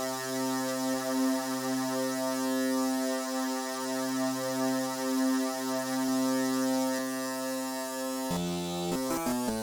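Polymer software synthesizer with unison pushed to 16 voices, a thick, sustained, buzzing digital drone holding one pitch with slow wavering, then shifting into a few quick stepped notes at the end.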